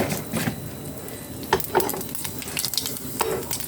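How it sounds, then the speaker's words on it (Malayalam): Mustard seeds sizzle and crackle in hot coconut oil in a pan, a steady close frying hiss broken by sharp popping bursts and a few light clinks of a utensil against the pan. "പാൻ വെച്ച് ഞാൻ വെളിച്ചെണ്ണ ഒഴിച്ചിട്ടുണ്ട്, കടുകിടാം."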